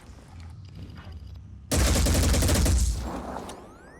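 Gunshot from a heavy's weapon in the video game Blood and Titanium, a sudden loud burst of rapid fire cutting in after quiet game ambience, then a rolling decay with a rising whine.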